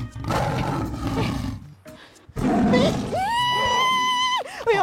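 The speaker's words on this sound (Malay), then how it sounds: "Bunyi gajah." An elephant at Taiping Zoo trumpets once, a loud, sustained, tonal blast heard nearby, after a stretch of rough roaring animal calls and outdoor noise.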